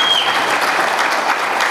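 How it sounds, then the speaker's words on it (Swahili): Audience applause at a gathering before the Iringa Regional Commissioner, a dense, steady clapping that carries evenly through the whole short stretch with no talk over it. "Hebu jipigeni makofi kwa hilo bwana."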